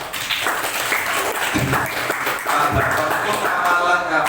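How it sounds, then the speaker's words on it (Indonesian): Audience of children and adults clapping at an Islamic study session with an educational magic show at a Quran school, a dense sustained patter of applause mixed with voices and cheering. "Tepuk tangan dulu dong."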